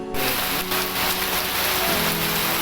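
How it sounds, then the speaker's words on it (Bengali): Heavy rain pours down outdoors as the downpour keeps coming, a dense, loud, constant hiss of water close around with no break. "এই বেশি বৃষ্টি হয়েছে আমরা দাঁড়িয়ে আছি"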